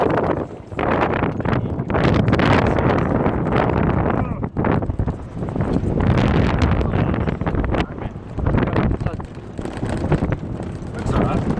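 Strong wind on the Serengeti roars and buffets a microphone almost continuously, loud and rumbling with gusty surges and only brief lulls, and speech is faintly present beneath it.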